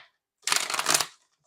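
A deck of tarot cards being shuffled, one brisk riffling burst of crisp papery flutter lasting under a second, close and clear against silence.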